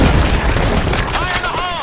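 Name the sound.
grenade explosion in a video game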